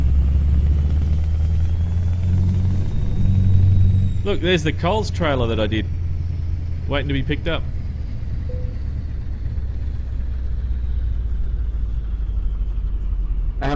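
Mack Titan Superliner truck engine in Euro Truck Simulator 2, a steady low rumbling drone that runs the whole time, with someone talking over it for a few seconds.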